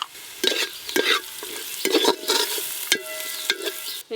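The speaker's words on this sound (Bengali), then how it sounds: "পেঁয়াজ কুচিগুলো একটু হালকা করে ভেজে নিয়েছি" Onion pieces fry lightly in a pan with ground cumin and turmeric while a spatula scrapes and stirs in repeated strokes over a soft sizzle.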